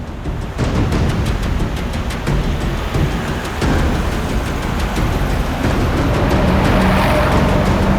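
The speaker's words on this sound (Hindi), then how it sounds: "सर, इसने गाड़ी तो जगत नगर की तरफ मोड़ ली" A car drives and turns during a chase through a deserted area, a loud continuous engine and road-noise roar that holds steady throughout with no talk.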